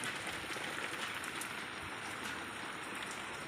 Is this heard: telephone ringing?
no